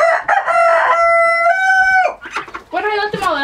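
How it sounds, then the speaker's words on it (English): A rooster crows loudly and close by, with a long drawn-out call, and hens cluck and squawk right after it, all on a quiet farm. "these are our two new breeds of chickens for the summer"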